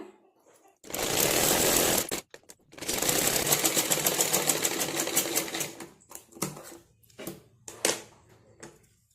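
A sewing machine stitches along the doubled-over neck edge of a blouse with a cross piece, running in two sustained bursts of rapid, even stitching, then short stop-start runs, close and loud with no talk.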